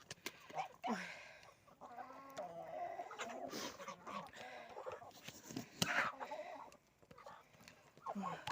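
Chickens and geese on a Ukrainian farmyard cackle and honk close by while being fed and watered, a steady jumble of bird calls mixed with someone talking over them.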